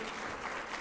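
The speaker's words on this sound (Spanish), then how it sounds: "Pedimos un aplauso para cada uno de los candidatos" Audience applause for presidential candidates at an opposition political forum, a steady dense clapping that fills the whole moment without pause.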